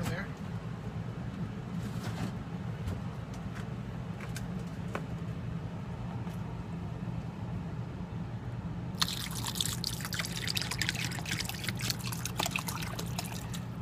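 A few faint drips over a low hum, then water pours steadily from a jug into a crock pot, splashing close by for the last several seconds.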